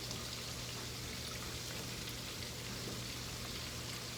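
Shrimp fry in a pan for a shrimp and spinach dish, a faint, steady crackling sizzle like light rain that continues evenly throughout with no talking.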